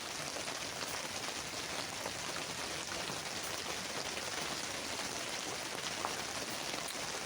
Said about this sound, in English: I'm not sure if you can hear me over this rain.